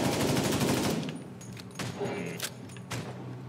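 Rapid automatic gunfire from The Division 2 video game rattles loudly for about a second, then gives way to scattered single shots and impacts. Background game noise continues beneath.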